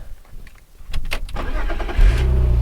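A BMW Z4 E85 with a newly fitted starter cranks briefly, then catches and settles into a loud, steady idle close by.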